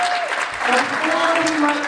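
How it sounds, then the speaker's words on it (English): An audience at an event breaks into loud, sustained clapping for two honorees, the applause dense and continuous while a voice speaks over it. "let's give Nancy and Kathy a round of applause"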